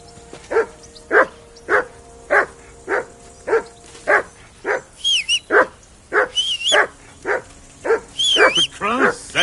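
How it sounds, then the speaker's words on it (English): Dog barking in a video game, a steady series of sharp, evenly spaced barks close up, joined later by higher yelping whines, with voices talking faintly in the background. "Do something with that mutt, Henry."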